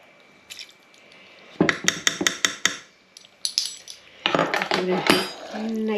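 A spoon clinks and scrapes around a bowl of dried fruit soaked in brandy and juice, with a run of sharp rhythmic taps against the bowl followed by wetter stirring sounds.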